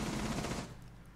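Rapid gunfire in a video game, a fast burst of close automatic shots that fills the first half-second and then cuts off into quieter background.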